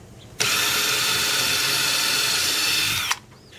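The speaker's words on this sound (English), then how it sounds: "I'll just drill a pilot hole and then we'll put a bigger bit on there." A power drill bores a pilot hole for mounting screws while installing a parking lot light, one continuous loud whirring burst of nearly three seconds that starts and stops abruptly.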